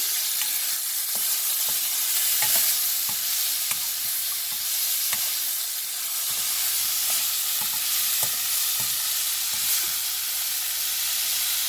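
Beans sautéing in oil in a pan, a continuous close sizzle with frequent clicking scrapes of a spoon stirring them, steady throughout with no talking.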